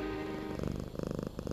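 A person imitates a cat with a soft, rolling purr-like vocal rumble, starting smooth and then pulsing in quick throaty beats, close and alone without any ordinary speech.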